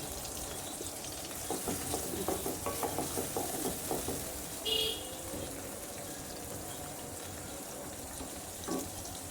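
Curry with ground garlic and onion paste and mixed vegetables bubbles and spits in a cooking pot, a steady low sizzle with irregular soft pops and stirring clatter throughout, plus a brief brighter splash near the middle.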